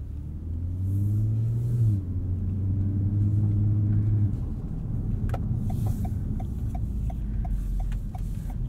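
A 2020 Toyota Avalon TRD drives with a steady low engine rumble from inside the cabin, the pitch rising and shifting as it accelerates, and a faint regular ticking, like a turn signal, in the later seconds.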